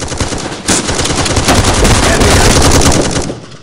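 Rapid loud shotgun blasts in the shooter game Bullet Force, fired in a dense, continuous burst with a short gap near the start, close and harsh for a few seconds.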